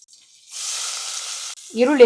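Loud sizzling of onions dropped into hot oil with cloves, cinnamon and peppercorns, starting abruptly and hissing steadily for about a second before a voice begins speaking over it.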